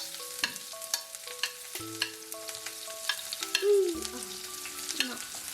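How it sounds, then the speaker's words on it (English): Chopped onion dropped into hot oil with a little mustard for an egg and potato fry, giving a steady close sizzle with regular scraping stirs and spatula taps against the pan. "Now add the onion."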